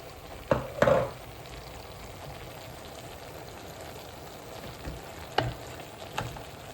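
Egg noodles stir-fried with mixed herbs in a pan, a soft steady sizzle with a few brief clinks and scrapes of stirring, fairly quiet and without talk.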